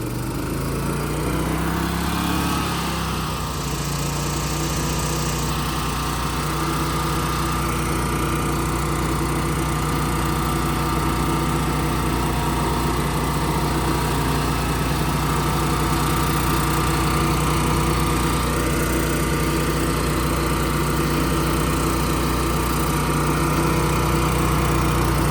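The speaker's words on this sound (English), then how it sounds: "Always start your cutting head at a low throttle and then bring it up." A Rayco RG27 stump grinder engine runs loud and steady close by, revving up as the cutting head is throttled up, then holding a constant drone throughout.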